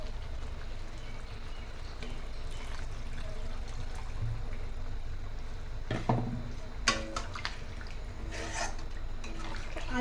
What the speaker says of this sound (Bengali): তো তার সাথে আরেকটু আমি জল দিয়ে দিলাম।